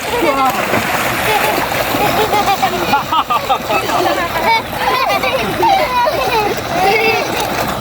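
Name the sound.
water splashing while bathing under a tubewell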